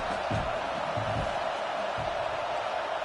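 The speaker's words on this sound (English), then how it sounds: "Big 3rd down as the crowd gets behind this defense." A football stadium crowd, Michigan vs Ohio State, roars steadily to back the defense on a big third down, a dense continuous wall of cheering with a few louder swells early on.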